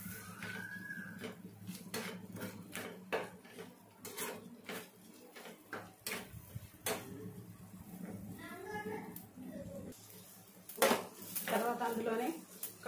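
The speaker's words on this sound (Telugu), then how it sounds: "కొంచెం బిర్యానీ మసాలా, ఒకసారి బాగా కలుపుకోవాలి." Spoon stirring biryani masala in a cooking pan, with repeated scraping and clinks of utensil on metal, mid-loud, and a voice talking intermittently over the kitchen sounds.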